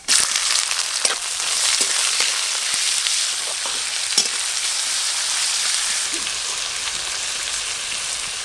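Onion and ginger-garlic paste fry in hot mustard oil with whole cumin and bay leaf, a steady close sizzle with scattered clicks and scrapes of stirring.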